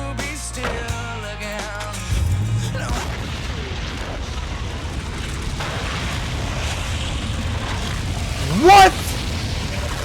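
Deep booming blasts and rumbling from the TV show Smallville, with a brief voice reacting and a sharp whooshing burst near the end, like dramatic explosion effects.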